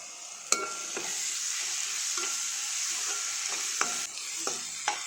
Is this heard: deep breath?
no